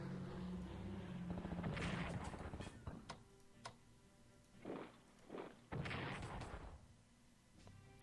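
Bombs hitting troops in Strategic Command WWII: a string of dull thuds and booming impacts. A heavy cluster lands early, then separate blasts come at intervals. The bursts are fairly quiet and sit over a low rumbling bed.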